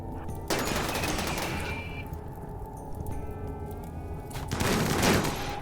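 Gunfire in the video game RimWorld comes in bursts of rapid shots and fusillade-like volleys, with a sustained tonal hum underneath and heavier bursts near the start and end.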